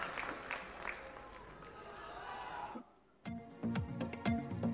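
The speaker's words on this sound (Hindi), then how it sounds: "एक बार जोरदार तालियां अपने सभी लोगों के लिए जो इतना समय निकाल के दूर दूर से आ रहे हैं।" A crowd at a political rally applauds for close to three seconds with dense, steady clapping. A brief hush follows, then a voice talks over the crowd.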